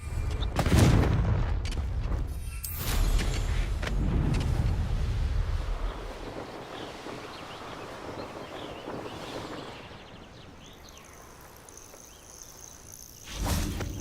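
Confringo fire spell explosions in Hogwarts Legacy, several loud booming blasts in the opening seconds that fade into a rumbling tail and quieter ambience, with one more sharp burst near the end.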